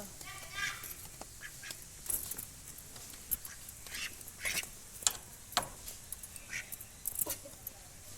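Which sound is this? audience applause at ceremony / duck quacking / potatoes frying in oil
duck quacking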